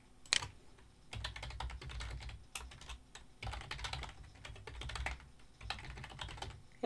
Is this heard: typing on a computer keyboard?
yes